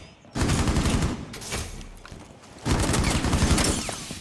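Dense bursts of automatic gunfire in the Rainbow Six Siege video game, two loud volleys separated by a brief quieter gap, with rapid overlapping shots and no talking.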